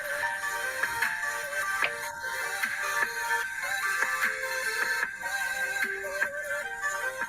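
A song played back from a cell phone, thin and tinny with a repeating melodic pattern and rhythmic plucked notes, steady and moderately loud throughout with no voices.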